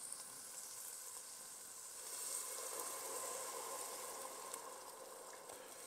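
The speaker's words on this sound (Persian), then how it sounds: "حالا بهش آب اضافه میکنم." A pot of fenugreek ashkenah soup with meatballs sizzles and hisses steadily as water is poured in, a continuous bubbling hiss that swells briefly in the middle, with no talk.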